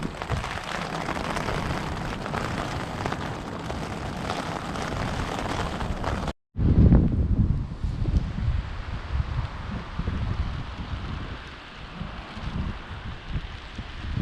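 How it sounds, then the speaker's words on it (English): Loud, steady roar of strong storm wind rushing through trees in winter woods, with a brief cut partway through and heavy gusty rumble continuing afterward. "Winds are getting up big time."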